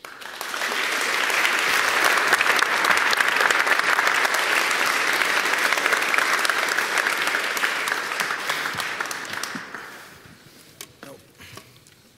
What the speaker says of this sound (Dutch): Nogmaals een heel hard applaus.